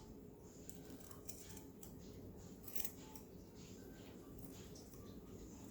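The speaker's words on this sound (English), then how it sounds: "I cut the cheesecloth with the scissors" Several soft, crisp snips of scissors cutting through cheesecloth, fairly close, with faint room noise and no talking.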